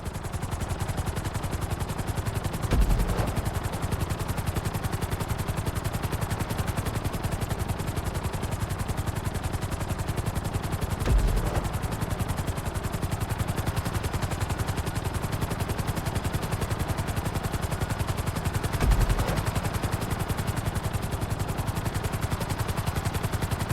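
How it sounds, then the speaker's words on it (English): A helicopter in the video game GTA 5 flies steadily and sets down on a helipad, its rotor a loud, continuous dense roar with a faint rhythmic chop and a few brief heavier thumps. "Bring the helicopter down gently onto the helipad"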